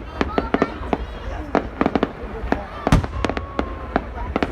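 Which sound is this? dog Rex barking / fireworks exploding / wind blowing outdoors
fireworks exploding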